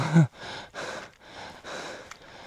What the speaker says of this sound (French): je suis essoufflé d'être remonté jusqu'ici